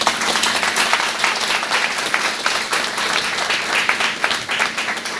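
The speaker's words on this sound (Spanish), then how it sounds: "Un aplauso para él" A crowd applauds steadily, dense clapping filling the room at an even, fairly loud level for the whole stretch.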